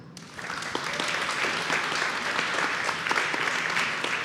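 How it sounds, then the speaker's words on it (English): An audience at a women's STEM tech event applauding the session sponsor, a full, sustained burst of clapping that starts abruptly and stays dense and even, with a few louder individual claps standing out. "So join me in giving a round of applause to our session sponsor,"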